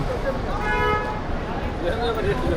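Heavy midday traffic near Villagio Mall in Batha, with a car horn tooting under close conversation and a constant rumble of vehicles.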